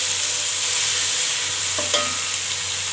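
Onions with ginger garlic paste fry in a pan, a loud steady sizzle with a brief stirring scrape, close and without talk.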